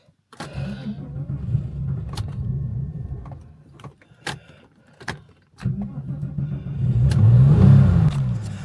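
A Porsche 996 engine cranks and catches, then idles and revs in uneven bursts broken by sharp clicks and short pauses, swelling to a louder run near the end.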